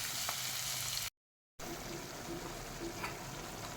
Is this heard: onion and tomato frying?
yes